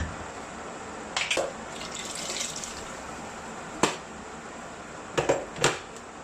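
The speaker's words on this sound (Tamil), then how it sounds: "கொஞ்சமாக தண்ணி இன்னும் கொஞ்சம் ஆட் பண்ணிவிட்டு மூடி வச்சு வேக வைக்க போகிறேன்" Water is poured into a pot of dal while cooking, giving soft splashy trickles and a few brief sharp splashes and clinks against a quiet kitchen background.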